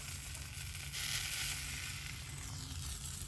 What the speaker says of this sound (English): Oh, you can hear the sizzle